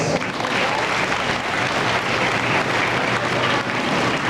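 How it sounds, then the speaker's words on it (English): Graduation audience at a grade school ceremony applauding for the teachers, a loud, dense and continuous roar of clapping from a large crowd in a hall. "can we give our teachers a round of applause?"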